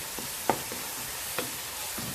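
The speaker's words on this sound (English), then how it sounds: "keep mixing that until the meat has fully cooked through" Minced meat fries in a pan under a constant hissing sizzle, with a few scraping stirs punctuating it at irregular intervals.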